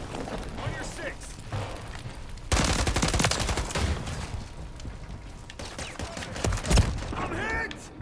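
Video-game gunfire comes in dense, rapid bursts and sustained automatic volleys. It is loud and close, with a heavier stretch in the middle, and shouted voices cut through the shooting.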